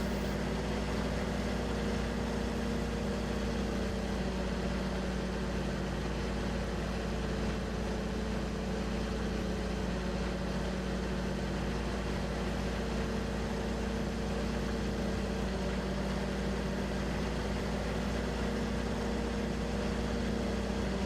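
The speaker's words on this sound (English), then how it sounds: "Let's definitely put up the speed on this tractor" A tractor engine in Farming Simulator 15 drives steadily, a continuous mid-to-low engine drone that stays loud and unchanging throughout with no talk.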